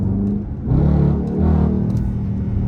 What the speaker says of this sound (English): I'm in 6th gear right now. I can literally just sit here,